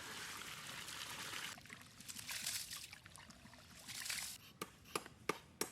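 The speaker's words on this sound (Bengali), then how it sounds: "চালটাকে আমরা ভালো করে ধুয়ে নেব" Rice gets washed by hand in water, with sloshing, trickling and pouring sounds. Several sharp knocks from the pot come near the end.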